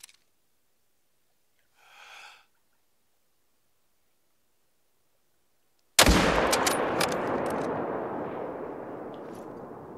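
A pistol shot in theHunter Call of the Wild, a single loud, sharp report that rings out with a long fading tail, after a short faint breath and near silence.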